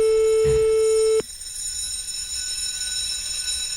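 A telephone rings with a steady electronic tone for about a second, then cuts off abruptly, leaving a faint hum behind.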